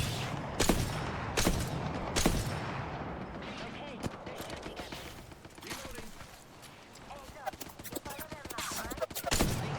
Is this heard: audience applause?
no